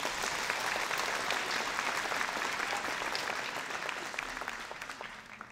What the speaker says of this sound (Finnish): Annetaan vielä isot aplodit hänelle.